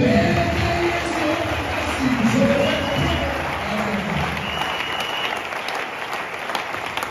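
A church congregation breaks into sustained, dense applause, loud and steady from start to finish, with a few voices calling out beneath the clapping.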